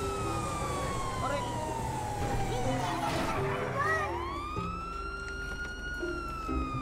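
A police car siren in Grand Theft Auto 5 wails in long, sweeping tones, with a second siren gliding upward near the end, loud and steady under excited talk.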